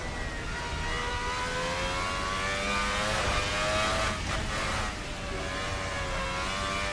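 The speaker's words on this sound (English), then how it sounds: "We can use this engine sound on other vehicles" Formula Hybrid race car engine in a racing sim game revs with a steady high-pitched whine, climbing and dipping in pitch, briefly rising around the middle before settling back to a sustained drone.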